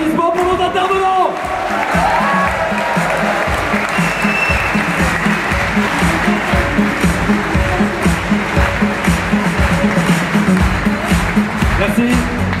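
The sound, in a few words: audience applause for the speakers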